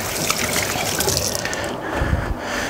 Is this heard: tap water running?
yes